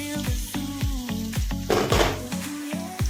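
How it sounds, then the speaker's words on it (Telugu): Ginger paste, green chilli, tomato, curry leaves and mint frying in a pan for bachelor-style palav, with a steady loud sizzle broken by repeated stirring scrapes and knocks of the spoon against the pot. "కరివేపాకు, పుదీనా అన్నీ వేసి బాగా వేగనిద్దాం"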